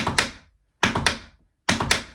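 Tap dance shoes beat out a 3-beat shuffle: three close, sharp clusters of metallic taps and thuds on a hard floor, evenly spaced with brief silences between, near and crisp with no talk.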